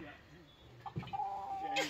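Backyard homestead chickens cluck and squawk agitatedly at a rooster, fairly faint, with a person talking over the flurry.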